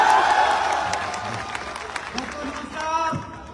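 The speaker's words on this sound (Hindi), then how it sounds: "अच्छा, ऐसे ताली होनी चाहिए अपने देश के लिए।" An audience claps and cheers at a gathering in Varanasi, loud and dense at first, then thinning into scattered claps with a little speech over it near the end.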